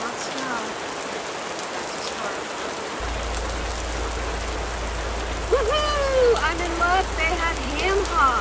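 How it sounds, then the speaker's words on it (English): Steady rain patters on a parked car in a grocery store lot, a broadband wash heard from inside the vehicle, with a low rumble joining partway and some faint higher sounds layered over the rain. "It's raining."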